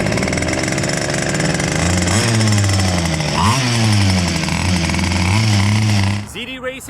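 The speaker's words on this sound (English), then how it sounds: "We're gonna do a speed test on the stock motor, stock pinion, batteries fully charged." A ZD Racing Pirates 2 1/8 scale brushless RC buggy on stock motor and pinion runs at full speed, its loud, high electric whine rising and falling for about six seconds before dropping off sharply near the end.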